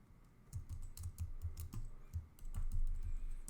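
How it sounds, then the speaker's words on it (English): Thumpy typing on a computer keyboard right beside the microphone, irregular bursts of key clicks with deep thuds, growing denser and louder toward the end, with no voices. "Get that background noise of my thumpy typing"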